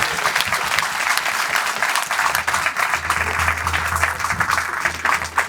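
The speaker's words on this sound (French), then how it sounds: "Donc je pense qu'on peut encore applaudir Claude II pour le travail effectué." An audience applauds at a carnival band induction ceremony, a dense, steady crackle of many hands clapping at moderate distance for several seconds without speech.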